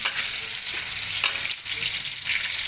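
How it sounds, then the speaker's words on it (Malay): Unpeeled petai beans fry in a pan for sambal with prawns, a loud close sizzle broken by a few scraping strokes of a stirring spatula. "Okey, kita kacau. Kalau ada bilis kita masukkan bilis sekali."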